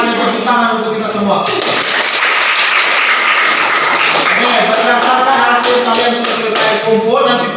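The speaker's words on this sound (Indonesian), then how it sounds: "Mari kita tepuk tangan untuk kita semua." A classroom of students claps together in loud, sustained applause that swells from the start and carries on steadily to the end, with voices mixed in under the clapping.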